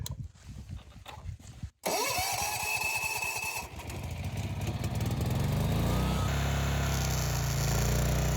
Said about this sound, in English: Fire up my generator.